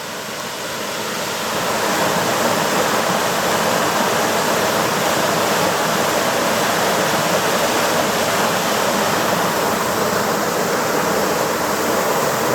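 Eel Weir Brook's waterfall pours in a dense, steady roar of rushing water that swells in over the first seconds, then holds loud and constant with no voices.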